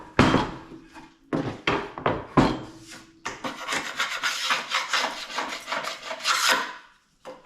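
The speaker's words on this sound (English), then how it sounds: "Here what I'm doing is scraping off the excess glue that I never got wiped off before it dried." Dried excess glue being scraped off a wooden carving, close and loud: short rough rasping strokes at first, then a long run of rapid back-and-forth scraping that stops near the end, with no talk.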